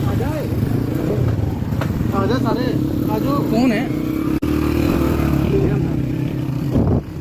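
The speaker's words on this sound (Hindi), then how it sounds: "चल रहे हैं जी बाइक्स पे" Motorcycles pulling away in a group from outside a barbecue restaurant in Karachi's H Block, their engines droning steadily and close throughout while people talk over them.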